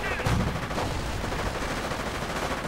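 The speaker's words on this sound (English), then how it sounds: "Volley of bazooka fire." Rapid bursts of bazooka fire in a World War II strategy game, a loud, crackling volley of overlapping blasts and gunfire that fills the whole moment with no pause.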